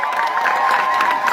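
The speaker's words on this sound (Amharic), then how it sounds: "አጨብጭቡ።" A crowd at a church gathering claps and cheers together, a dense, steady wash of applause and voices that fills the short moment without pause.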